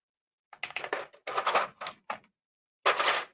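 Keycaps are pressed one by one onto a new keyboard in short bursts of close, crisp clicks and snaps, with brief silent gaps between groups.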